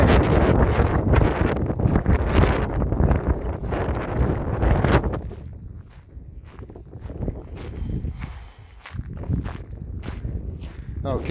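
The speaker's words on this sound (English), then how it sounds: "Boy, the wind is just wild today." Strong gusts roar across a desert railroad trail near a basalt rock tunnel, heavy and buffeting for the first five seconds, then easing into lighter, intermittent rumbles, with soft footsteps underneath.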